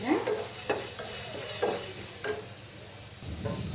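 Dried red chillies and curry leaves frying in a pan for pepper kuzhambu, a soft sizzle with a few distinct scraping stir strokes spaced roughly half a second apart, close and moderate.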